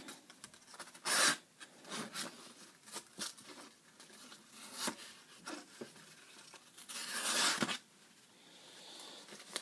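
A knife, an Ontario Blackbird SK-5, cuts through a paper plate in several rasping, scraping strokes with tearing bursts, two of them long and loud, close up and with no talking.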